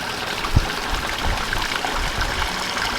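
Water pours steadily into a koi pond being refilled after a cleanout, a constant close rushing and trickling wash with one brief low thump near the start.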